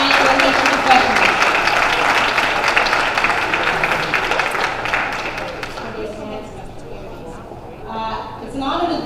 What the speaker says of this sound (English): Let's give a big round of applause to the staff, the organization, the leaders, the National Service Alliance, and the professionals